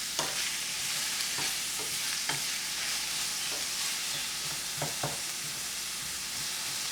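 Onions sizzle steadily in a pan over lowered heat, a dense, even hiss with occasional soft stirring taps, close and with no voices.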